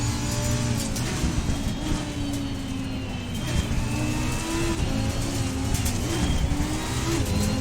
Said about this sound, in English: Let's jump in the Lambo for a second. Listen to the Lambo.